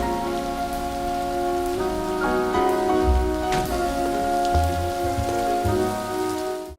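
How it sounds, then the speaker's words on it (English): A constant hiss of rain falls during Chicago filming of a Love Jones scene, mixed with sustained tonal music and occasional low thumps. "This rain you see here was never even planned."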